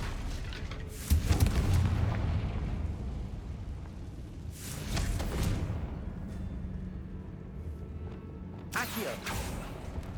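Confringo blasting spell going off in the Hogwarts Legacy video game inside a tomb, heard as several heavy booming blasts at about one, five and nine seconds over a dense, rumbling game soundscape.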